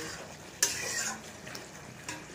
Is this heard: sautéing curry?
yes